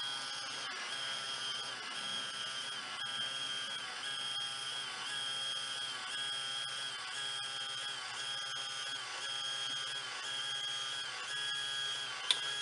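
An HP 82240A thermal printer runs its self-test printout, giving a continuous, quiet, even whirring buzz with faint rhythmic pulsing throughout and one small click near the end.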